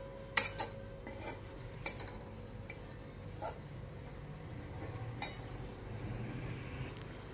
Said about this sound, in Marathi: इकडे खोबरं भाजत आलेलं आहे।